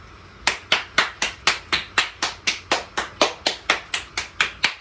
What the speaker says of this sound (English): Let's clap it up for God one last time before we get up out of here